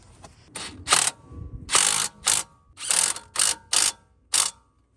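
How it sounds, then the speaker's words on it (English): Ratchet being cranked on a strut nut and bolt of a Honda CR-V during a front wheel bearing job, with about seven close, loud bursts of rapid clicking separated by brief pauses and no talk. "you're gonna put the nut and the bolt back on. You can torque that down to 116 foot-pounds."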